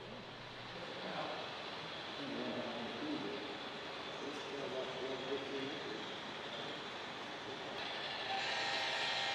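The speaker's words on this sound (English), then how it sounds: "today he was testing out a new locomotive on the tracks" Continuous rumble and clatter of a DCC-equipped model railroad locomotive running along tracks, steady and fairly loud, with a brief whistle-like tone near the end.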